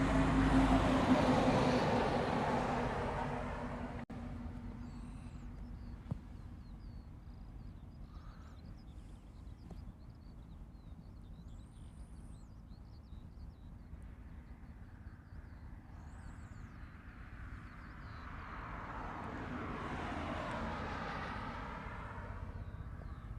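Southwest airliner taking off from runway 8 right at Honolulu, a broad jet roar that fades over several seconds and then swells again, heard from a distance with bird caws in the background.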